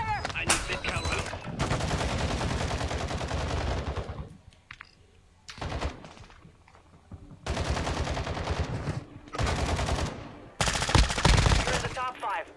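Gunfire in the Apex Legends video game, loud sustained bursts of automatic fire up close, stopping and restarting several times with short quieter gaps and faint clicks between volleys.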